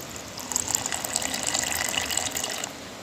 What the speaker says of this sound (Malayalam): ഇനി നമുക്ക് അതിനകത്തേക്ക് വെള്ളം ഒഴിച്ചു കൊടുക്കാം